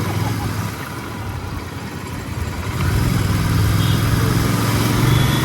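A Royal Enfield Continental GT 650 motorcycle engine drones steadily while riding, a low, continuous rumble mixed with wind noise that swells a little louder partway through.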